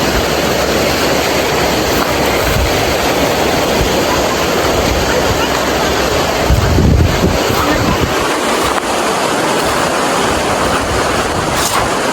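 Cold river water rushing past in a broad, loud, continuous roar, mixed with heavy wind buffeting on the microphone, steady throughout with no clear talk.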